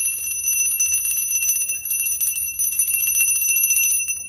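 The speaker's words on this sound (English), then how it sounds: "I use my bell" A bell rung for energy clearing sounds as a steady, bright metallic ring with sustained high overtones, loud and close, holding alone for about four seconds with no talking.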